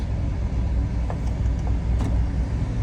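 A 2005 minivan's engine idles steadily in reverse, a close, constant low rumble with faint clicks and no talking over it.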